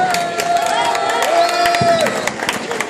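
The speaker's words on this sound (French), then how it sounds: "On applaudit bien fort, s'il vous plaît, monsieur Prince." Carnival audience in Kourou, French Guiana, applauding and cheering loudly as a crowd, with a steady wash of clapping and a sustained tonal whistle or horn over it, and the voices of a close crowd mixed in.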